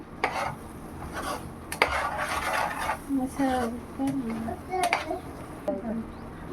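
Spoon stirring bagara baingan, a Hyderabadi eggplant gravy curry, in a pot, making repeated scraping and clinking strokes, with a soft sizzle underneath and a voice talking over it.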